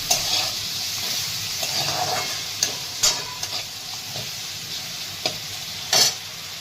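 Ivy gourd (tondli) sautéing with finely chopped tomato and a little salt in a pan, giving a steady close sizzle broken by several sharp clinks and scrapes of a spoon against the metal.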